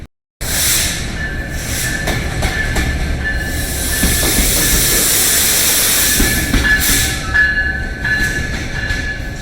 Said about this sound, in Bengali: দশটা বাইশ মিনিটে দ্রুতযান প্রবেশ করলো